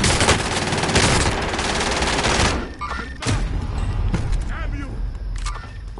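Gunfire rattles through a Call of Duty: Cold War match, a dense burst of shots for the first couple of seconds, then scattered sharp blasts under ongoing game noise and voice chat.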